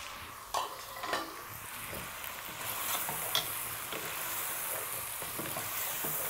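Chopped tomatoes go into a pan sizzling with Kashmiri chili for palak gosht, making a soft steady fry with a few brief utensil clinks and stirring scrapes, fairly quiet.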